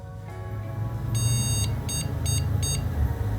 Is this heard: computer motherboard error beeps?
yes